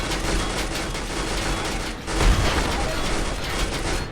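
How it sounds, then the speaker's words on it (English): Tank gunfire in the video game RimWorld, a rough mechanical rattle with a heavier shot thump midway, set against continuous noisy game ambience with no one talking. "there goes a shot"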